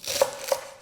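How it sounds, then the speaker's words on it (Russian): A knife chopping soaked, washed greens into large pieces on a board, two distinct sharp chops about a third of a second apart, close and clear with no voices. "Режем мы крупными кусочками, не мелко."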